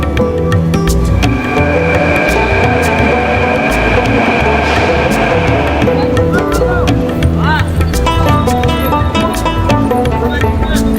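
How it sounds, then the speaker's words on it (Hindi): A Delhi Metro train sounds loud and close at a station, with rumbling, rail clatter and squealing tones as it moves, while people talk over it. "यहीं से हमें मिलेगी मेट्रो जो हमें लेके जाएगी जी इंडिया गेट की तरफ"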